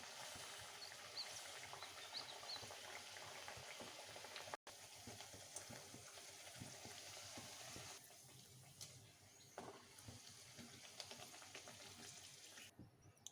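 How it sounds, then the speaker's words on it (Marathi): Puris frying in hot oil in a kadhai: a steady, fairly faint bubbling sizzle that runs throughout, with a brief dropout midway and softer crackling afterward. "आता एक एक करून आपण पुऱ्या तळून घेऊ"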